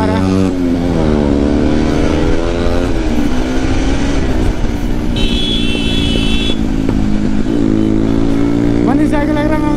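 A TVS Apache motorcycle engine revs and drones steadily on the move, pitch rising and falling with the throttle, while someone talks over it and traffic passes.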